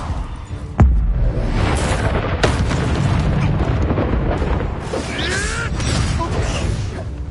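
Fiery spell blast from a wand in Hogwarts Legacy, a sharp boom followed by a sustained roaring rumble with crackling bursts and brief whooshes, loud and dense throughout.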